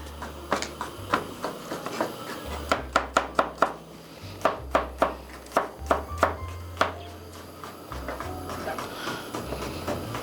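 A knife chops radish in half and then slices it thinly on a board, producing a series of crisp, evenly spaced cuts that speed into a quick burst, close and clear.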